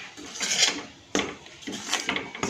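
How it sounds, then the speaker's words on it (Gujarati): A spoon stirs flour roasting in a pan for crispy padwali puri, scraping and clinking against the metal in uneven bursts, close and fairly clear, with no talk. "હવે આપણે લોટને ધીમે ધીમે ચમચા વડે હલાવીશું"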